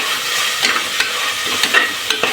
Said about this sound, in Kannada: ಈಗ ಎಲ್ಲ ಒಂದು ಕಡೆಯಿಂದ ಚೆನ್ನಾಗಿ ಮಿಕ್ಸ್ ಮಾಡ್ಕೊಳ್ಳಿ. ಎಲ್ಲ ಹೈ ಫ್ಲೇಮಲ್ಲೇ ಇದು ಮಾಡ್ಕೊಳ್ಳಿ.